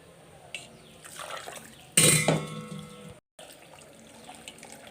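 Ground coconut being strained for its milk into a pot in a home kitchen, soft wet squishing and trickling with a loud splashing pour in the middle, then a brief pause and quieter handling.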